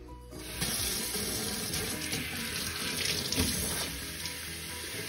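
Tap water runs steadily into a container for soaking mushrooms before dyeing, a continuous hiss and splash that starts after a brief quiet moment and carries on without talk.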